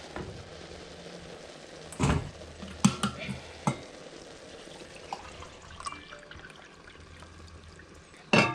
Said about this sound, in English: Flour is in, and I'm now going to stir this in.